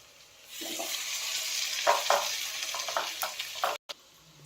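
Potato patties fry in a pan over a medium gas flame, a steady close sizzle with a few soft scrapes and clinks, alone without any talk, ending in a brief cut to silence.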